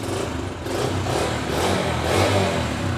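A 2021 Yamaha YBR125G motorcycle engine runs steadily after a self-start, giving a continuous mid-pitched hum at moderate, even loudness with no voices.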